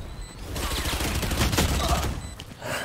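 An SMG in Valorant fires rapid sustained bursts, a dense rattling stream of shots with short pauses, close and loud over game sounds and a faint voice.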